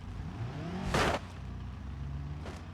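A car's wheel spins and its engine revs in the BeamNG.drive driving game, a rising engine note with a sharp whooshing burst near the middle and a fainter one at the end.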